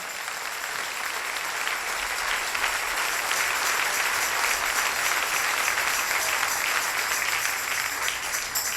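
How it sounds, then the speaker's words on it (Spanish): A church congregation claps together in praise during a pastor's sermon, a full, even wash of applause filling the hall and holding steady for several seconds. "Dele ese aplauso al Rey"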